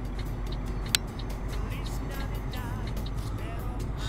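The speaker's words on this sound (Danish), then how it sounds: "Synes, der lyder mig lidt for højt, den her lastbil her." A truck engine runs loudly and steadily in the cab, a deep continuous rumble with one short click near the start.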